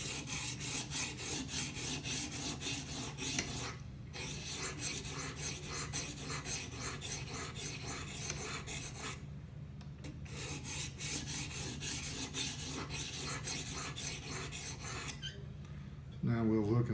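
Knife edge being sharpened on a stone clamped in a guided sharpener, steady rhythmic rasping strokes close by, broken by two short pauses, with faint rubbing between passes.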